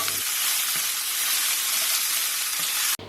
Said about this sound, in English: Toss the broccoli through for a few minutes till it absorbs all the oil.